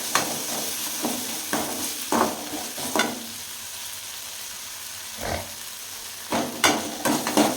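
Home-cooked noodles with carrot and beans being stirred in a frying pan over low heat: a soft continuous sizzle broken by clusters of scraping stir strokes, close up and without speech.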